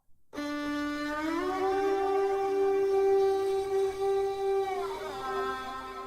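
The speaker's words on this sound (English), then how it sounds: "This is just a violin that I stole from Free Sound." A bowed violin sample holds one sustained, rich note that swells and then shifts pitch slightly near the end, played alone and fairly loud.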